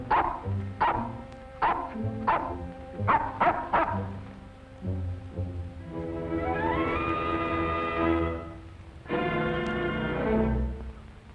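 A dog gives a rapid run of barks, then shifts into long drawn-out howls and whines, fairly close and persistent.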